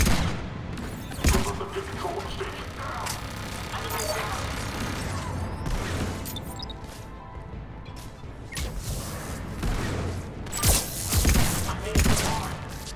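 Rapid gunfire bursts from the video game Mass Effect 3, with sharp shots and crashing impacts over a busy game soundscape of music and effects, while a person talks over the action.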